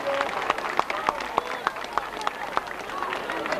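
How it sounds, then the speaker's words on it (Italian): Scattered applause from a small crowd at the 1987 Palio Campolese, individual claps ringing out in a steady rhythm, moderately close. "Un applauso."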